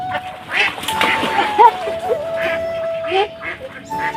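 Several ducks quack in short, scattered bursts among a noisy crowd at a duck-catching competition, with a steady tone running underneath.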